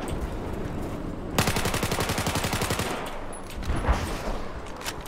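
Rapid automatic gunfire in the video game Battlefield 4, a long, loud rattling burst followed by scattered shots and explosions against steady battle noise.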